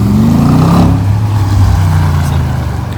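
An Audi R8 engine at a Paris car gathering, a loud, close, continuous roar that swells and eases slightly as it revs, heard alone without talk.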